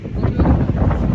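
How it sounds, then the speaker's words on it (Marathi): Outdoor wind buffets the microphone as a steady, loud low rumble for about a second, with no voices. "वाऱ्याचा आस्वाद घ्या"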